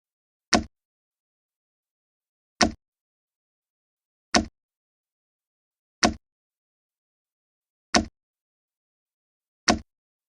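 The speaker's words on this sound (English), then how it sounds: "cut the moose meat into bite-sized pieces with our traditional knife called an ulu" Six crisp, evenly spaced chopping knocks, each short and isolated by silence, as an ulu knife cuts moose meat into pieces in a children's winter cooking game.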